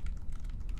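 Brief, quiet clicking of computer keyboard keys typed in quick succession, close to the microphone, with no talking.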